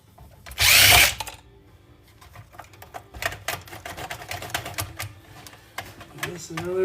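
A power tool unscrewing screws from a desktop computer being taken apart for recycling, a loud close whirring burst followed by clicks and rattling of parts while someone talks.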